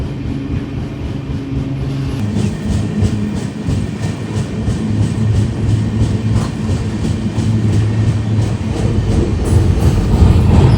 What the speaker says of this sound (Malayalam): ഹൗറ മുംബൈ മെയിൽ അതാണ് പോകുന്നത്.